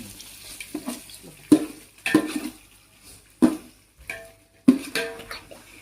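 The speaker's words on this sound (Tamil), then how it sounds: "இப்போ நான் கிண்டி விட்டுறேன்" A spoon stirs food in a cooking pot: five distinct scraping knocks against the metal, with soft sizzling and liquid sounds between the strokes, close up and alone.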